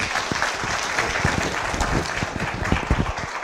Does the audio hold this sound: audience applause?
yes